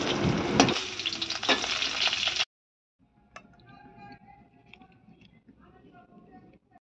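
Jackfruit pieces frying in oil, a close crackling sizzle with stirring for about two and a half seconds, then cut off abruptly to faint clicks and quiet room sound.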